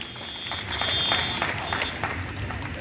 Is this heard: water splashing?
no